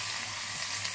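Onions sizzle in hot oil, a brief, constant frying hiss at moderate volume with no voices.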